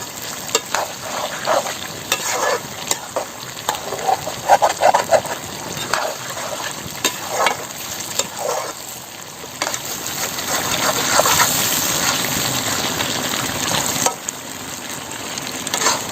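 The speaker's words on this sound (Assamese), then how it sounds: "অলপ লৰাই থাকিব লাগে নহলে কামুৰি ধৰে তলত" Pork curry sizzles and fries in a pan while a spoon stirs it, producing loud continuous crackling with repeated scraping strokes and a few brief clinks.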